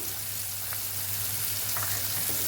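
Chopped tomatoes cook in a hot pan, giving a steady close sizzle with a few faint stirring scrapes.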